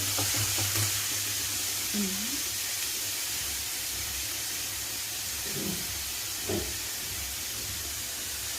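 Wet tomatoes fry in a pan with a constant, loud hiss and sizzle that holds steady throughout, broken by a few faint stirring scrapes, and no one speaks.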